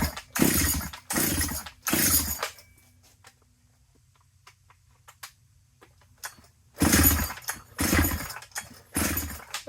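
A G888 chainsaw engine runs on choke in short loud rattling bursts, three close together, then a long quiet gap with faint ticking, then four more revving bursts, close by and with no talking.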